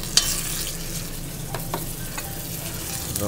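Onion, garlic and ginger fry in a pan alongside roasted tomatoes and chilies. A dense, steady sizzle runs close up, broken by a few light scrapes and taps of a stirring spoon.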